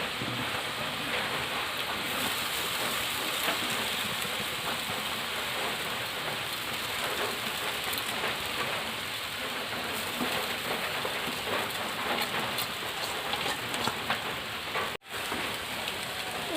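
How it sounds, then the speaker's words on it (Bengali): Soaked, washed flattened rice (chira) hitting a hot pan for chira pulao, giving a steady, dense hiss and crackle like rain that holds throughout at moderate loudness, with one brief dropout near the end and no voices. "এবার আমি এই যে চিড়ে দিয়ে দেবো, চিড়েটা আমি আগের থেকে ধুয়ে রেখেছি।"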